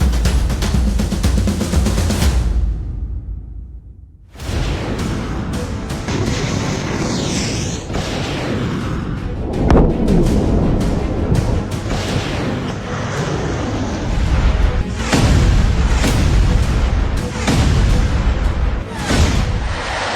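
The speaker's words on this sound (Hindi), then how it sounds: "तेल अवीव पर खुर्रम शहर मिसाइलें गिर रही हैं। एक एक क्लस्टर बम को गौर से देखिए।" Long run of heavy, rumbling blasts and booms from missile strikes and cluster bomb explosions over Tel Aviv, loud and dense with repeated sharp impacts and a brief lull near the start.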